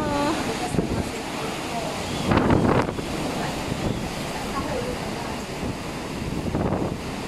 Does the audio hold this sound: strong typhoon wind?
yes